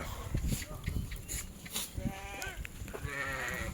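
Sheep with lambs bleat in a rustic pen, a few wavering calls rising over steady background noise and low shuffling, with faint human voices nearby.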